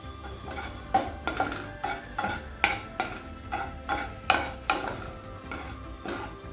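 Crushed nutmeg dry roasting for biryani masala in a pan, stirred with a metal spoon that scrapes and taps the pan in a steady rhythm of close, sharp strokes with no voices.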